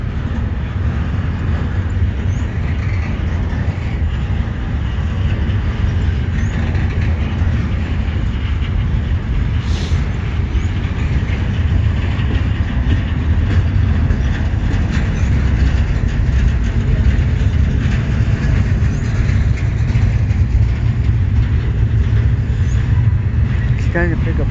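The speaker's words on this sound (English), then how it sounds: "That is one long train." A long CSX intermodal freight train, led by a CSX locomotive, rolls past close by with a steady, loud rumble and continuous rail noise throughout, with no break in the sound.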